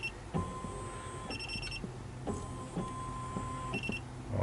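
An SEC E9 key machine with its clamp carriage stuck at the back gives off repeated electronic beeps in steady bursts, loud and close, with a low mechanical hum underneath.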